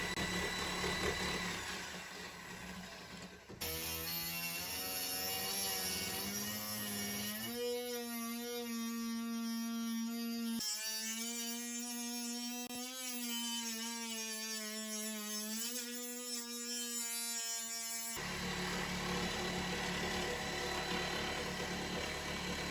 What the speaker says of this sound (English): cut a hole big enough to get this reciprocating sawzall in there, and then cut the rest of the hole out